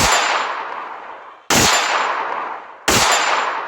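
Three loud, sharp gunshot blasts from a mobile shooter game, each with a long ringing decay before the next strikes, spaced roughly a second and a half apart with no talk.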